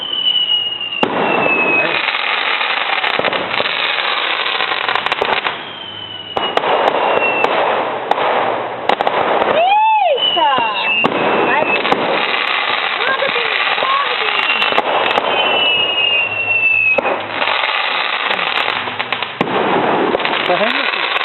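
Fireworks display bursting over Ipu in Itapajé, with repeated pops, crackles and whistling rising shells across the whole stretch, one sharp loud bang near the middle, and people talking and exclaiming throughout.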